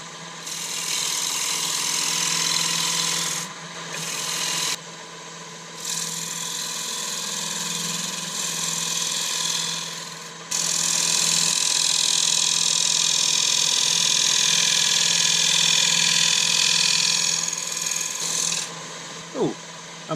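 A wood lathe spins a beech honey pot while a gouge cuts into it, giving a loud, sustained rasping hiss that breaks off briefly a few times and then resumes over a steady motor hum.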